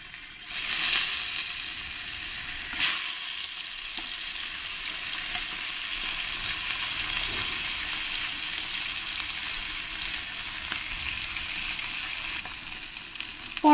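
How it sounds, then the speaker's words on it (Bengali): Foloi fish frying in a pan, a steady bright sizzle and hiss that continues throughout with a few faint clicks, no voices. "পরের মাছগুলো ঠিক একই রকম করে আমি ফ্রাই করে নেব"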